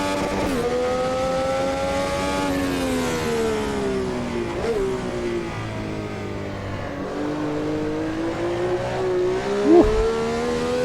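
A Brabham BT46B fan car engine in the racing sim Automobilista 2 drones steadily with layered rising and falling harmonic pitch as it revs through gear changes, close and continuous throughout with no talk.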